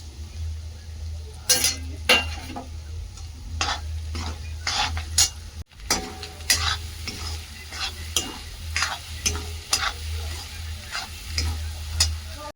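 A spoon stirs egg bhurji with spices in a pan, making repeated close scrapes and clinks over a low sizzle. A brief dropout comes midway, and faint speech sounds are barely present.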